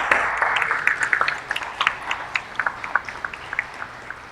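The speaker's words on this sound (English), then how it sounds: "Let's give them a round of applause." At a mentor appreciation event, an audience claps for case managers, a dense burst of applause that thins into scattered individual claps as it fades out.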